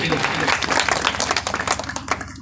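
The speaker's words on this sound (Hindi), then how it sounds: "एक बार जोरदार ताली सम्राट अशोक के लिए।" Brief burst of enthusiastic audience clapping honoring Emperor Ashoka at a public gathering, dense and sustained before tapering off, with a voice partly audible over it.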